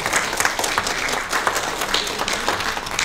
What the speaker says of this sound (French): j'aimerais qu'on l'applaudisse